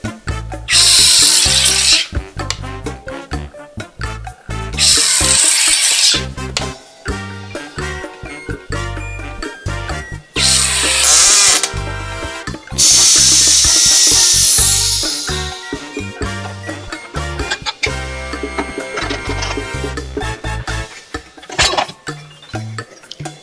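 A home soda maker carbonates cold refrigerator water into sparkling water, giving four or five loud hissing bursts with rattling and clinking between them, close up and with no talking.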